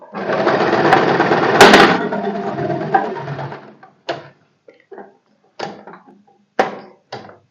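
A sewing machine stitching a strip onto a kurti runs in one continuous burst of rapid needle chatter for several seconds, then stops, followed by scattered short clicks and handling knocks.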